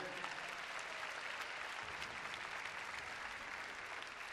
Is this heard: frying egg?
no